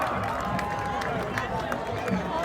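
Crowd at the Island Games in Guernsey cheering and applauding for Team Samoa, a steady dense roar of claps and voices with some scattered louder bursts, sustained throughout.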